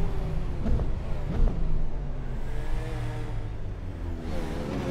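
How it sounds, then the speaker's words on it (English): Prototype and GT3 race cars in Assetto Corsa run in tight quarters during a multi-class Petit Le Mans race, engines droning and revving with rising and falling pitch, one car surging close before settling into a steady hum. "So you have prototypes and GT3s racing in"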